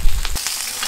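Food frying hot in oil, with a dense crackling sizzle and a few sharp pops like popcorn bursting, close and loud over a brief moment.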